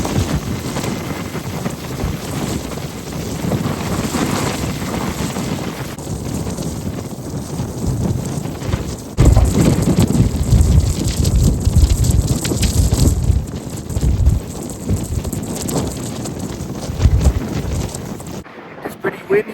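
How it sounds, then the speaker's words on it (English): Strong wind blasts the microphone during a scooter ride in Kazakhstan, a continuous rough roar that surges louder midway and persists to the end, with no talk. "It's pretty windy today."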